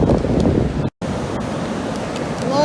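Ocean surf washing onto a beach near a river mouth on a rainy day, a steady broadband roar with wind buffeting the microphone and a brief dropout partway through.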